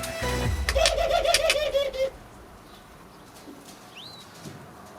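A young pigeon close to weaning in a loft gives soft coos alongside a voice-like harmonic passage for about two seconds, then falls to quiet with a faint, thin squeak near the end.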